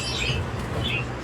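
A pet bird gives a few short, bright calls at close range over a steady indoor background, with no talking.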